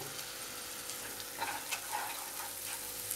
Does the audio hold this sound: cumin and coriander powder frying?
yes